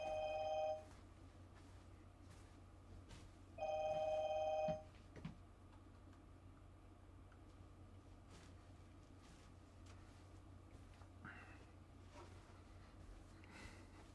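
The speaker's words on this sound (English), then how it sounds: "Hold up, let me shut off my phone." A phone rings indoors during a live online session, two short bursts of an electronic ringtone a few seconds apart, then quiet room tone with faint clicks.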